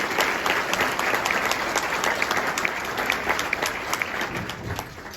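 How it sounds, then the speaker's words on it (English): Sustained applause from a dinner audience thanking the event organisers fills the room, dense clapping from many hands at steady loudness throughout, with no speech over it. "Let's give them a round of applause"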